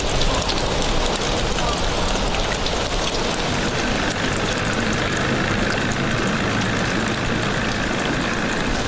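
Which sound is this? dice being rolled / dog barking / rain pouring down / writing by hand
rain pouring down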